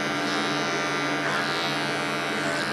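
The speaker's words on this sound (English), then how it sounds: "He's got a bit of power for a cordless, right?" Cordless hair clippers buzz steadily and close up during a haircut at a barber session, one continuous whine with no break.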